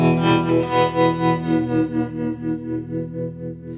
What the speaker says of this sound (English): tremolo or a univibe type sound is also gonna help, this sort of sound